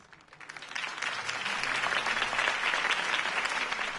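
A crowd bursts into applause after Harvey Dent's campaign speech in the Telltale Batman video game, with clapping that swells from quiet to loud and stays full and sustained, with no voices over it.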